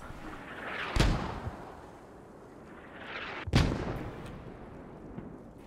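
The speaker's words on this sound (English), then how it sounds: "Enemy mortars are getting quite close to us." Mortar shells fall and explode in the military shooter Squad, two sharp, fairly distant blasts a few seconds apart, each trailing off in a rumble, with no talk.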